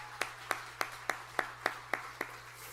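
A church congregation claps in unison during an Easter Sunday service, with about nine sharp, evenly spaced claps over a steady low hum.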